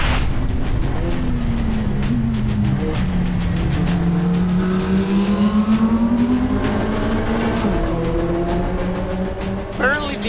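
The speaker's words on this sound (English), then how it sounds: "Listen, hear the engine." In a racing video game, a race car engine drones and rises in pitch as it accelerates, then drops and climbs again through gear changes, steady and loud under constant road and wind noise, with a brief squeal near the end.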